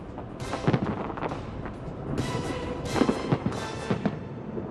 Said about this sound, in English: The fireworks being launched from the ground and from the roof of the new Frontier.